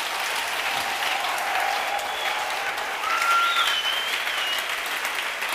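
A church congregation applauds, a dense, continuous clapping from many hands that fills the room at an even level, with faint sustained tones ringing behind it.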